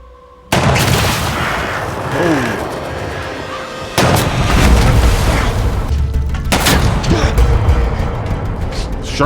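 Battlefield gunfire and artillery booms in the First World War film 1917, loud bursts of shots and heavy blasts over a dense rumbling barrage, with shouted voices faintly in the mix.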